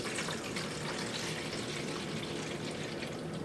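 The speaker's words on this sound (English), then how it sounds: "we're gonna fill this up with some distilled water up to that level" Distilled water pours steadily into an AeroGarden indoor herb garden's reservoir, a continuous close splashing trickle with no voices.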